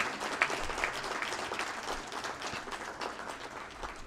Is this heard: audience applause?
yes